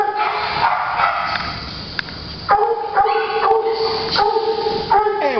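Zoe, a 40-pound dog at a crowded shelter, gives a few short yips and barks among whiny, tonal whimpers, close and fairly loud, with brief gaps between calls.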